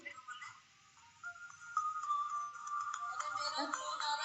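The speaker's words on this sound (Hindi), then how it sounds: "मेरा फोन आ रहा है जरा, एक मिनट, मेरा फोन आ रहा है।" A mobile phone ringtone plays as an incoming call arrives, a steady electronic tone that grows stronger and keeps sounding over faint room murmur.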